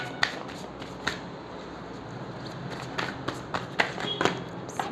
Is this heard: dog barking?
no